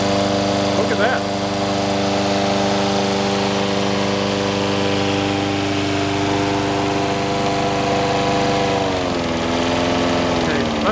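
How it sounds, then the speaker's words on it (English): A John Deere 21-inch Model 14ST lawn mower with a Kawasaki 5HP engine runs loud and close with a steady, even hum that dips briefly in pitch near the end. "That is a really, really quiet engine on this thing."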